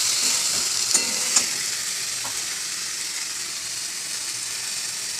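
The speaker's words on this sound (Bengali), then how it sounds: "আলুটা যেহেতু সেদ্ধ তো আস্তে আস্তে একটু নাড়াচাড়া দিতে হবে।" Boiled potatoes frying with turmeric and coriander-cumin powder in a pan, stirred slowly, with a continuous close sizzle and a few light scrapes and taps of the spatula near the start.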